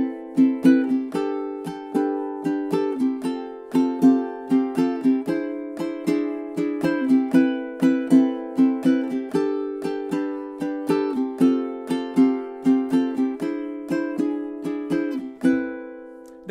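Acoustic-style guitar strumming through a four-chord progression in a steady down-up pattern, bright repeated chord strokes at a constant rhythm, close and clear with no talking, ending on a ringing final chord.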